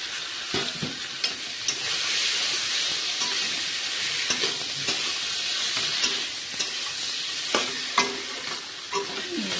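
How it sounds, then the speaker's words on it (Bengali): Fried puffed rice tossed into cooked spices for a vegetarian muri ghonto, stirred steadily in a hot pan with continuous sizzling and frying hiss, punctuated by repeated spatula scrapes and clinks against the metal, close and fairly loud, no talking. "এইবার আমি ভেজে রাখা চালটা দিয়ে দেবো।"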